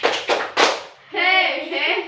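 A classroom of fourth-grade children claps a rhythmic spirit clap in three sharp bursts, then shouts together in unison, loud and close.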